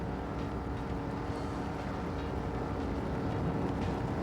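A 24-foot offshore powerboat with a Mercruiser engine and TRS outdrive racing near New York City at up to 80 mph, a steady droning engine roar with wind noise, continuous and fairly distant.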